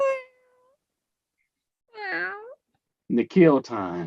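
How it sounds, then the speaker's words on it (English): A house cat meows twice, short clear calls separated by silence, the second louder and longer, followed by a person beginning to speak. "was that the cat? That was the cat"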